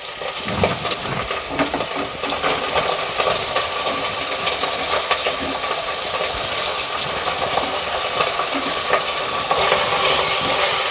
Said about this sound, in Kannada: ಟೊಮೊಟೊನ 1-2 ನಿಮಿಷ ಫ್ರೈ ಮಾಡ್ಕೊಳ್ಳೋಣ.